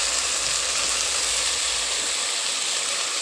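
Ginger garlic paste sautéing in a pan while cooking a Bombay kurma, giving a steady, even hiss and sizzle that stays constant throughout, close and moderately loud with no talk.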